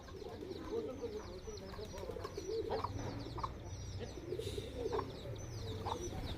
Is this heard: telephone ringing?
no